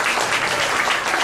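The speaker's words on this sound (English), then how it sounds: "Let's give Robin a big round of applause." Studio audience applause after a special effects water tank scene, a dense, steady burst of clapping filling the short moment with no talk.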